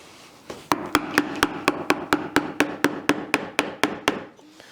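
A mallet strikes a 20mm (3/4 inch) gouge again and again while hand-carving a wooden flower, making about sixteen sharp, evenly spaced knocks that ring close and loud with no voices.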